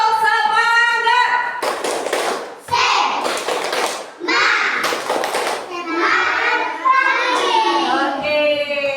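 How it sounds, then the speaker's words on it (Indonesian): During a classroom ice-breaker, children chant the 'tepuk semangat' routine with loud rhythmic claps and thumps. The clapping runs in short bursts between sung and spoken lines. "Tepuk semangat."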